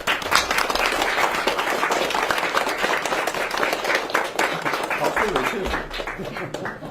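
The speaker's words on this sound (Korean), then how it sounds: "큰 박수 부탁드립니다" A room of attendees claps warmly as the South Korean president enters a government budget-saving meeting, a sustained burst of many hands that stays even, then thins toward the end.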